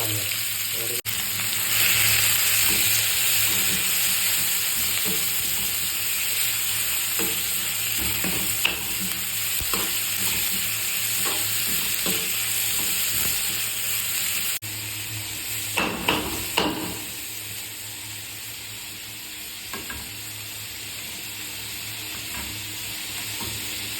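Onion, tomato and chili frying in hot coconut oil in a pan, a steady loud sizzle throughout with intermittent stirring clatter, louder scraping knocks toward the end, no talking.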